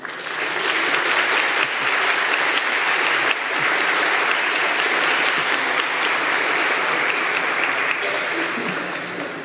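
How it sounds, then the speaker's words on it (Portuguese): Sustained, loud audience applause fills a ceremony at the Santa Catarina Legislative Assembly honoring the Seventh-day Adventist Church, with steady clapping from many hands that holds throughout without a break. "Uma salva de palmas."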